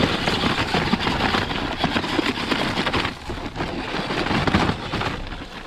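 A giant $80 RC monster truck from Tractor Supply works its way up a gravel pile, its electric motor whining steadily over the continuous crunch and rattle of gravel, heard close by with no talking.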